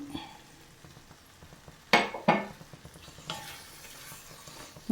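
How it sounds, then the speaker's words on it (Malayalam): Fried quail eggs are stirred into quail egg pickle in a pan, with a soft sizzle beneath two sharp scraping clatters of a spoon and lighter scrapes after. "നല്ലതുപോലെ ഇളക്കി ചേർക്കാം"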